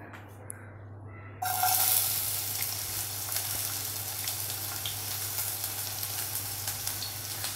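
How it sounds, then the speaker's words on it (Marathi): Chopped onion dropped into hot oil for an oyster mushroom dish, setting off a sudden loud sizzle that stays steady and close, a continuous hiss of frying with no talk. "हे तेल व्यवस्थित तापलं की आपण त्याच्यामध्ये कांदा घालायचा आहे"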